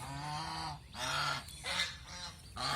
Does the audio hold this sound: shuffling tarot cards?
no